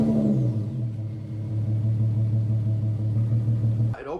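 An Infiniti Q50 with the 3.7-litre VQ37 engine and a muffler delete drones in a deep, throaty exhaust note that rises slightly and holds steady, then drops off abruptly near the end.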